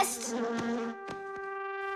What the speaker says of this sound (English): It's just a plain old bee!